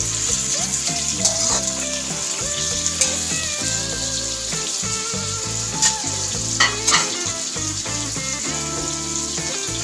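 Eel is stirred in a pan for adobong igat with coconut milk, a close frying sizzle with occasional scraping knocks running beneath a loud tonal music bed.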